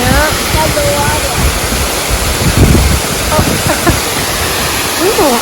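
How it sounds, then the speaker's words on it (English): Breeze blowing beside water on a nature walk, a constant broadband rush of wind noise over the microphone, with scattered voices and a few faint bird chirps mixed in. "Ooh, it's getting breezy."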